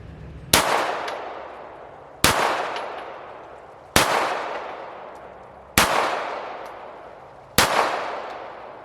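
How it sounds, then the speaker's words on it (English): Five evenly spaced shots from an FN FNS9 9mm pistol firing mid-level rounds at a target, each a sharp, loud crack with a ringing echo that fades before the next shot, roughly every one and a half to two seconds. "this is the mid-level round, and we'll shoot at the B in the lower right-hand corner"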